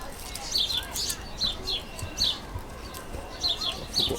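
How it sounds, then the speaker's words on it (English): Birds and pigeons call outdoors in a garden, a series of short high chirps repeating every second or so against a steady background hiss, moderately distant with no talk. "which is just to stop the birds and the pigeons, as you can hear in the background"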